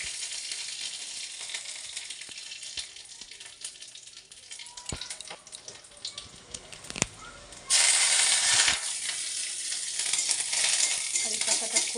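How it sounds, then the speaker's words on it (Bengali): Home-grown curry leaves frying in oil in a kadai: a close, steady sizzle with scattered crackles and clicks, then a sudden louder burst of spitting hiss that carries on to the end. "কারি পাতাটা খুব ভালো করে ভেজে নিতে হবে।"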